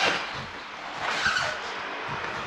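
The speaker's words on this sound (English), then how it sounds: "That noise sounds like the motor's on its way out." A pump motor on its way out gives a steady, rough whirring drone with a gritty, skidding edge. It holds at a fairly constant level with a slight swell midway and no talk over it.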